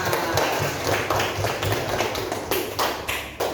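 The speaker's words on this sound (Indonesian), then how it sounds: "Tepuk tangan" A classroom of students claps hands together in dense, steady applause that lasts the whole stretch, with scattered sharper taps standing out and no talking over it.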